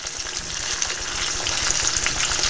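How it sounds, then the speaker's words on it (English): Salmon pieces sauté-frying in a pan with peppers, onions and garlic, a steady close crackling sizzle with no talk. "I'm gonna let them sort of saute fry."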